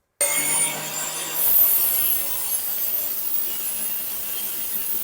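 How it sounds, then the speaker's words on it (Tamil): A homemade cut-off machine cutting through a metal rod, a sudden onset of harsh grinding and hissing abrasion that holds steady and close for several seconds. "இப்போ நம்ம இந்த மாதிரி ராடை வந்து ஒரே அட்டம்ல கட் பண்ணி பார்ப்போம்."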